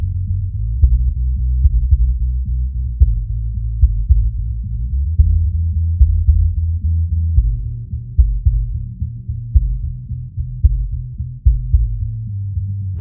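A reference track plays for comparison against a mix, heard only as heavy bass: rumbling low notes under a regular pulse of kick-drum hits. It stays loud and continuous throughout with no voices.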